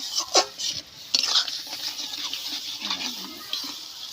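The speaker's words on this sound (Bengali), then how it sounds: "ভালো করে মশলাটা কষাতে।" A ground paste of ginger, cumin and dried chili fried and stirred in a pan, with scraping stirs and utensil clinks over a soft sizzle, close and moderately quiet, with no talk.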